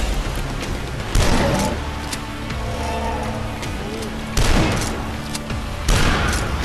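Grenade launcher firing in the retro shooter DUSK: three loud, booming blasts, spaced a few seconds apart, each with a short rumbling tail over a steady noisy game background.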